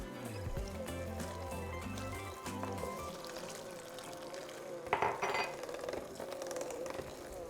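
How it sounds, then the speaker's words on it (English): Jalapeno pickle juice pours into a bowl of combined masa and lard, a soft liquid trickle and splash with light clinks of a utensil, fairly quiet and without talk. "now we're going to add half a cup of jalapeno pickle juice"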